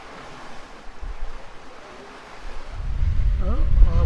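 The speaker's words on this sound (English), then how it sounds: "Quite a few gusts coming through." Wind gusts buffet a sailboat cruising at about 8 knots between Rere Bay and the Bay of Islands, a steady rush that swells louder toward the end with surf and water noise, and a faint voice appears briefly near the close.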